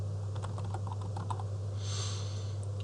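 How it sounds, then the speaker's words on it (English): Soft keystrokes on a computer keyboard as text is typed into a web page publishing form, a quiet run of irregular taps over a steady low electrical hum. "We are going to type in"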